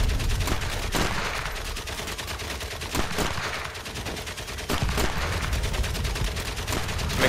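Relentless gunfire in the World War I video game Valiant Hearts: The Great War, a dense rattle of rapid repeated shots and heavy bangs running continuously and loudly throughout.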